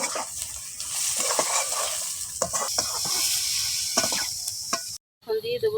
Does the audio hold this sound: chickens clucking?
no